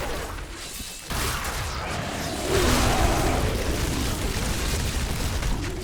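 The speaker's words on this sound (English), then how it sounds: "corpse explosion never gets old" Corpse explosion from the Necromancer class in the Diablo 3 video game, a loud booming burst that swells about a second in and holds as a dense, sustained rumble of blasts through the rest of the clip.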